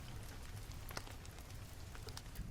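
Steady rain falling and pattering on a surface, a dense even hiss with scattered individual drop taps, heard alone without voices.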